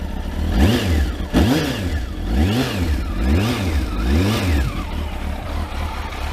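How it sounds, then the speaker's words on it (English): Kawasaki ZX12R motorcycle engine revving repeatedly, about five rising-and-falling throttle blips in a steady rhythm, loud and close with no talking. "I do like the sound of my ZX12."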